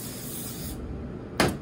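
A short burst of cooking spray hissing from a can onto a sheet tray for crullers, close and fairly loud, over a steady background hiss.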